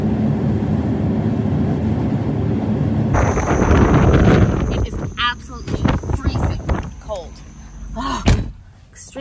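Strong wind buffets the microphone with rumbling gusts during a snowy road trip, then a door-like thud and rustling handling noises follow as the wind eases.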